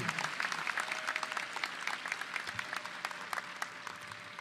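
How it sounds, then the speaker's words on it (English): A high school graduation crowd applauds the ROTC, band and chamber choir, a broad sustained clapping from a large audience heard at some distance, fairly soft. "please give our ROTC, our band, and our chamber choir another round of applause"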